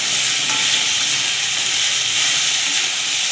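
Chopped tomatoes fry in a pan with a loud, continuous hiss and sizzle that stays even throughout, with faint stirring underneath and no voices.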